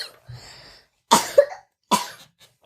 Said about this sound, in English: I have a little bad cough.